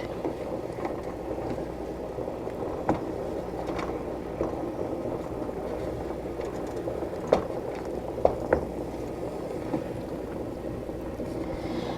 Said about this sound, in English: Now my water has come to a boil.